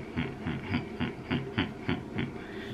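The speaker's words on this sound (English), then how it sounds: "If you're a car person, you know what that sound is, that chop." Car engine idling with an aftermarket cam, giving a lumpy chop: a steady rhythmic loping pulse of about four beats per second, moderately faint and heard alone.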